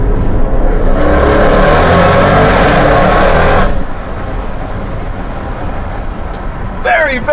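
Audi RS6 C7 with a Milltek exhaust revving inside a tunnel: a loud, roaring engine blast for several seconds that then drops to a lower, reverberant rumble, with a brief sharp burst near the end.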